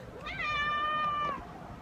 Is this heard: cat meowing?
yes